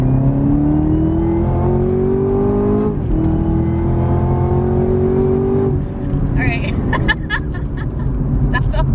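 A 2019 Camaro ZL1 1LE accelerating hard in second gear, its engine note climbing loudly in two rising sweeps with a brief shift break, then easing off with some tire noise while someone talks throughout.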